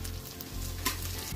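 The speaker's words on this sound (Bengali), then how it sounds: "এদিকে আমি পেঁয়াজ আর রসুন কেটে এগুলো একটু ভাজছি" Chopped onion and garlic fry in a pan for a mutton dish, a steady close sizzle with a brief stirring scrape partway through.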